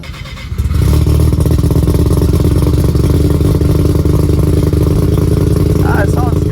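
A Mazda RX-7 turbo engine starts up and revs, running loud and steady close by after a quiet opening, with people talking near it.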